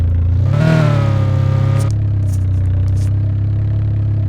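A car engine in the video game Electronics Store Simulator revs up sharply with a rising whine, then settles back to a loud steady idle rumble.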